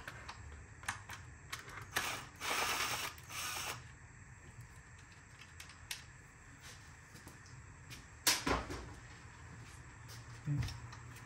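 A ratchet with an 8mm bit loosening connections during valve cover gasket work on a BMW 323i E90, with close, rapid mechanical clicking in short bursts, scattered metallic knocks and faint talk in places.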